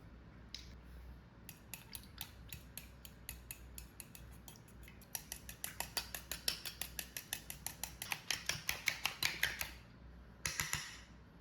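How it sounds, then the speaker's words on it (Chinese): Eggs beaten with salt and water, a rapid run of close, sharp clicking strokes against a bowl that comes in bursts and quickens into a steady rhythm, with no talking. "然后把鸡蛋打散"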